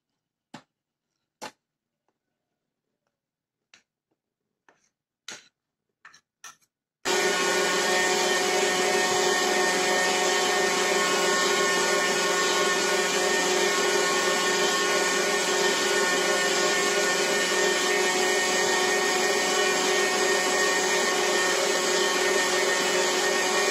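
An electric stand or hand mixer runs continuously at a steady, loud whir while beating a soft, simple cake batter, with milk and flour added alternately; a few brief knocks and clicks come before the motor starts.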